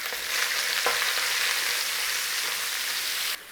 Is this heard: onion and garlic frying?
yes